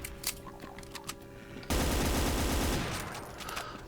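Rapid gunfire in a retro video game, a sudden loud, dense burst of shooting that runs steadily for about two seconds after quieter game sounds, with no talk over it.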